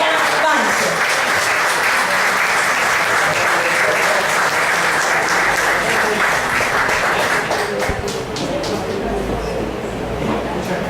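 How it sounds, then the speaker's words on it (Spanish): A loud, sustained round of applause fills the room at a book presentation, many audience members clapping continuously for about ten seconds, tapering only slightly near the end. "Un aplauso grande a usted."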